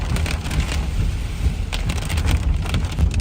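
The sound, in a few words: rain while driving through the Blue Mountains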